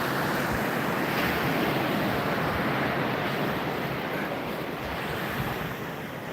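Ocean waves wash up on a beach shore as a steady, loud roar of surf, mixed with gusty wind buffeting the microphone. No voices are heard.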